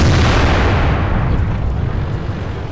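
A tank cannon fires in World of Tanks, heard as one loud, close boom that rolls into a long rumbling decay.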